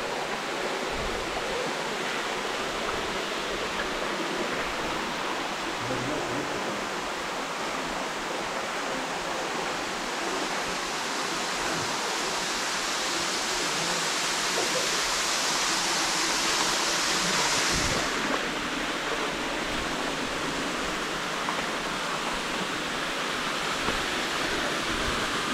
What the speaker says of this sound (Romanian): Aici mai este cascada.